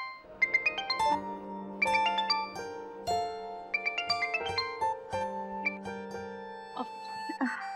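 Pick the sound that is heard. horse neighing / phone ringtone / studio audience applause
phone ringtone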